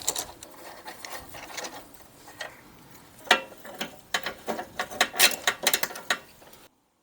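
Ratchet work loosening soaked exhaust bolts on a 2008 Smart Fortwo 451, quiet irregular clicking and metallic turning bursts, growing busier toward the end, close by with no talk.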